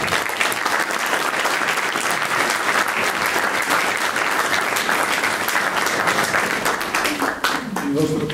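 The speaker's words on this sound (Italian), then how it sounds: "Il nostro applauso dice che non c'è bisogno che io aggiunga molte parole." Loud, sustained audience applause for guest of honour Pier Antonio Costa at a documentary screening in Turin: dense continuous clapping close up, with a voice beginning to speak as it fades at the end.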